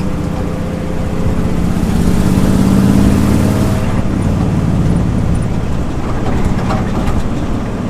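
A 1967 Ford F250 ramp truck with a new carburetor accelerates on the road, a loud, steady engine drone that builds for a few seconds then eases into a rougher rumble, heard from inside the cab.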